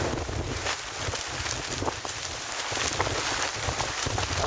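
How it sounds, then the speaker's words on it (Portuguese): Strong gusting wind sweeps across a campsite where tents have blown down, a steady loud roar that rises and falls slightly and buffets the microphone throughout. "A gente está aqui, ó, no meio da ventania, algumas barracas também já se foram."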